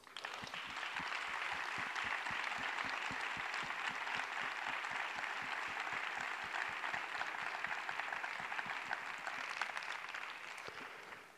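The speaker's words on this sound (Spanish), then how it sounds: "Yo quisiera, señoras y señores, que este primer aplauso fuera al cielo con ellos." Sustained applause from a large audience at a flamenco concert, dense steady clapping lasting throughout with no talking.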